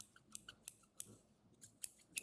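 Scissors are handled up close in a quiet room, giving a quick series of crisp snips and metallic clicks in an uneven rhythm.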